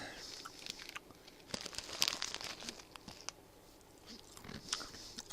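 Close, loud crunching and crinkling of a Japanese snack from a Tokyo Treat box, with irregular bites and wrapper rustles spread through the moment and no talking.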